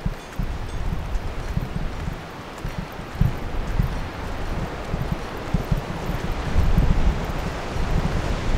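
Strong wind buffets the microphone on a 4x4 trip: loud, gusty rumbling roar with rustling, rising and falling in surges throughout, no voices heard.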